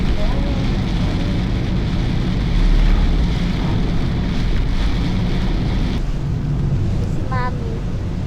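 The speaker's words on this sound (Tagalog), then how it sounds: "malakas ang ulan." Heavy rain pours down in a loud, steady roar with gusty noise mixed in, and voices talk beneath it.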